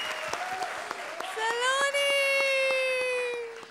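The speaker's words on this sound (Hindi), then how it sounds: "सबों के लिए एक दफा बहुत सारी तालियां" A comedy show audience claps steadily for a couple of seconds, mixed with a bright musical tone that bends upward and then holds.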